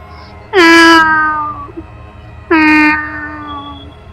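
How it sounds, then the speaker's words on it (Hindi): Two long, drawn-out cat meows, clear and close, separated by a short pause with quiet background. "बिल्ली के बोलने की आवाज आई"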